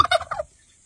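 A turkey in Mindoro, Philippines, lets out a quick, loud gobble close by, a short burst of rapid warbling notes that stops abruptly into silence.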